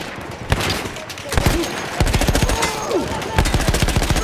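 Battlefield 1 gameplay gunfire: loud, close bursts of rapid automatic shots in repeated volleys, with a few separate single cracks between them.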